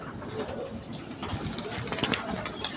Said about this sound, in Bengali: আজকে কবুতরগুলি খুব ডিস্টার্ব করছে